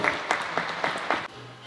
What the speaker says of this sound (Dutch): En ik zou er maar een hartelijk applaus voor willen vragen.